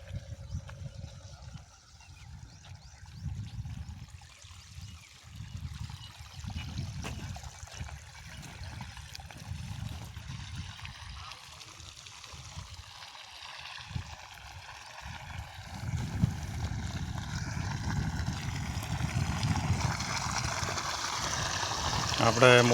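Water from a motor pump, drawn from a minor canal, flows into a channel in a farm field. A continuous low gurgling rush is heard up close, growing fuller and louder toward the end.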